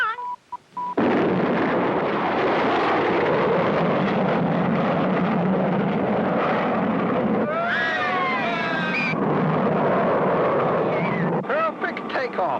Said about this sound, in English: Perfect takeoff